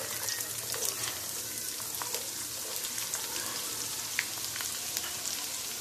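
Onions frying in a pan for tinda masala, a dense, even hiss of sizzling oil with fine crackles and an occasional sharper pop, close and steady with no speech.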